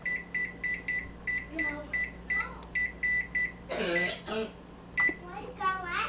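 A rapid run of short, evenly spaced electronic beeps from an oven control panel as the temperature is lowered to 350 for baking blueberry muffins, followed by a voice speaking and a few more beeps.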